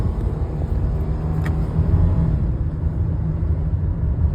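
A van engine drones steadily in second gear at about 3,700 RPM while driving through a neighborhood, a loud, even low rumble with road noise and no break throughout.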